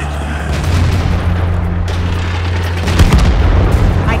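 A single heavy cannon boom from an Object 430 II tank in World of Tanks, rising out of a loud, constant low engine rumble near the end.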